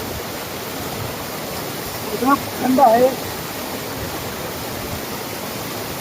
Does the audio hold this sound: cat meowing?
no